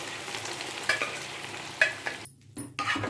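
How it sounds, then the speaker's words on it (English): Cinnamon and bay leaf fry in hot oil with a soft, steady sizzle, broken by a few stirring clatters and a brief quiet gap as cooked vegetables are added, before the sizzle picks up again. "Just fry for few seconds and then we'll be adding the vegetables, cooked vegetables."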